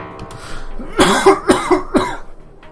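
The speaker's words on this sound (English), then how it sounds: "I'm about to cough here." A man gives a burst of several hard coughs in quick succession, close to the microphone, preceded by a short throat-clearing rumble and followed by quiet.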